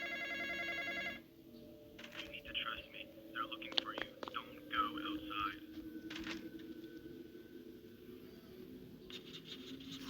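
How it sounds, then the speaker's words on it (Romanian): A phone rings inside a horror video game, a clear electronic trill in the opening second before it cuts off, then faint whispery ambience and eerie tones carry on underneath. "De ce sună telefonul?"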